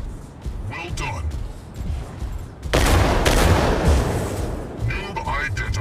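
Mech weapons fire in the Mech Arena video game, with a loud burst of rapid gunfire and heavy blasts in the middle, framed by electronic game effects and voiced announcements.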